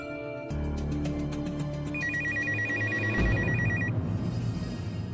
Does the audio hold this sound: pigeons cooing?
no